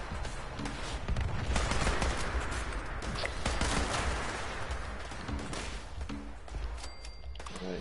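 Dense, continuous gunfire in the video game Fallout 4, rapid overlapping shots and bursts filling the whole stretch, loud and busy with faint game sounds mixed in.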